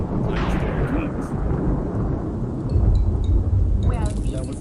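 A thunderstorm with heavy rain, thunder rolling and rumbling loudly over a constant dense downpour, with no voices.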